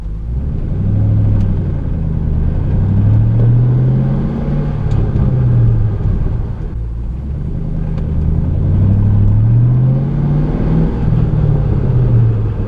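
A manual-transmission car engine revs up and down in repeated cycles while driving with windows down, a loud, close rumble rising and falling through gear changes.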